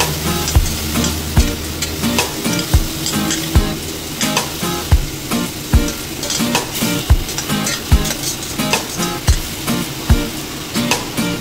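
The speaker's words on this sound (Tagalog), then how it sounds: "Then saka natin ilagay yung chicken. So igisa muna natin" Chicken pieces sauté in a hot pan for Filipino tinola soup, a steady loud sizzle broken by regular scraping stirs of a utensil against the pan every second or so, close up and without talk.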